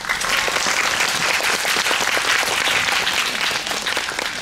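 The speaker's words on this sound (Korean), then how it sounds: "여러분 큰 박수 부탁드립니다." Audience applause at a film talk event in a Seoul cinema, dense steady clapping from a full room that holds at the same level throughout.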